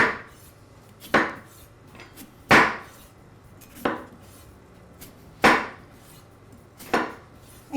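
Potatoes are sliced with a sharp chef's knife on a board, giving six crisp, evenly spaced chops at about one per second, close and distinct against a quiet room.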